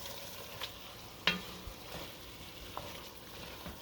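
Tomato paste and carrots sizzling in a pan for shepherd's pie, a quiet steady fry broken by a few sharp stirring clicks and scrapes, with no talking.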